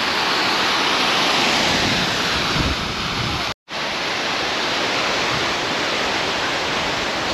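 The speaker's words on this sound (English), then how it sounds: "the waterfall is running" Waterfall at the Kathmandu Adventure Park in Magaluf, Mallorca, pouring as a steady, loud, broadband rush of falling water that carries on without a break apart from one brief dropout midway.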